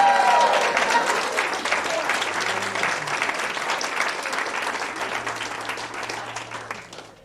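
A theater audience at a staged performance applauding, a dense, sustained wash of clapping from a crowd that swells at the start and slowly tapers off, with faint voices mixed in.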